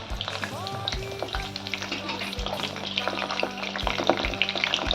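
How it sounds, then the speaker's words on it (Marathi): Bhaji fritters deep-frying in hot oil, a dense bubbling crackle close by with intermittent clinks and knocks of a utensil against the pan. "याप्रमाणे सर्व भजी आपण तळून घेऊया."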